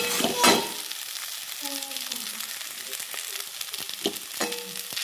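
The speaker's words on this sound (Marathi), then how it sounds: "तर मस्त असं कोरडे कांदा परतच आलेला आहे, सगळं टाकून झालं आहे." Dried onion sautéing in a pan with cumin, mustard seeds and ground masala paste, giving a steady soft sizzle with scattered stirring scrapes and a couple of louder clinks.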